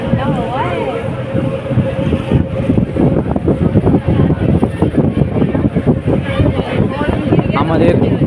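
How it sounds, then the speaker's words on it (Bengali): A passenger launch passing close by on the river toward Howrah, its engine a steady low rumble blended with water wash and wind buffeting the microphone, with voices talking throughout. "আমাদের পাশ থেকে আরও একটি লঞ্চ চলে যাচ্ছে হাওড়ার দিকে।"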